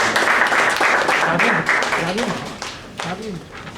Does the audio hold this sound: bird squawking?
no